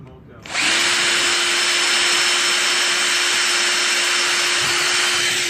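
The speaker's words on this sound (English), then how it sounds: "now I'm just gonna drill some pilot holes in here" A power drill drilling pilot holes for concrete anchors whirs up after a brief pause and runs continuously at a steady, loud pitch, close by.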